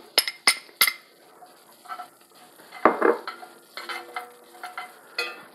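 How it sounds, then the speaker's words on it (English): Chopped onion hits melted butter and rendered steak fat in a pan, giving a light sizzle broken by sharp clinks and scrapes of a utensil stirring, with no voices. "To that melted butter, we're gonna add our onion."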